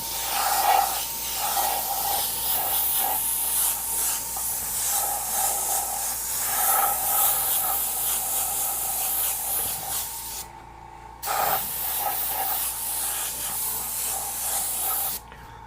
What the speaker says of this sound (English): Now notice I'm spraying on the tape here,